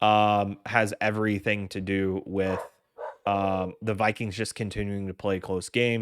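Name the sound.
dog barking in the background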